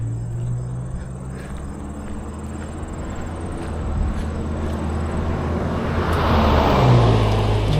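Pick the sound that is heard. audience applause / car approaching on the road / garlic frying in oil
car approaching on the road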